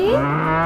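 A cow gives a single short, close moo: a loud, drawn-out lowing call with a rising then falling tone, heard alone.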